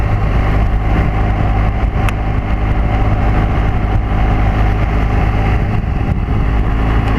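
A 2014 BMW R1200GS Adventure motorcycle on the move, a steady loud engine drone blended with heavy rushing wind noise, constant and close without pause.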